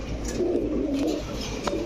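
Soft, low cooing of racer pigeons nearby, a short throaty burble with a faint chirp at the end.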